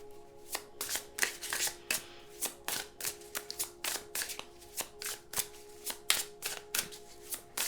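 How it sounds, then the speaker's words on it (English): A deck of tarot cards being shuffled in quick, regular riffling bursts, close and crisp, with a faint steady hum underneath. "Do 3 shuffles."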